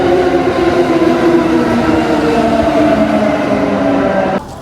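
A train running along a railway line in Japan, a steady loud rumble with sustained tonal hum, continuous throughout before cutting off abruptly near the end.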